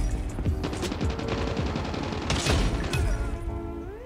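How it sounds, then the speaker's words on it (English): Gunfire in a Call of Duty Mobile free-for-all match: rapid bursts of automatic shots and scattered single cracks that come thick and fast, at moderate loudness, continuing steadily with no voices over them. "And I'm already getting shot at."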